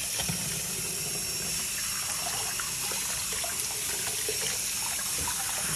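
Warm tap water runs steadily over a placenta being rinsed in a sink, a continuous close splashing hiss with small gurgles and trickles throughout.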